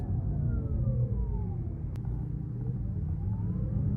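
Porsche Taycan Turbo S electric car accelerating hard, heard from inside as a steady low road rumble with faint rising and falling electric motor whines.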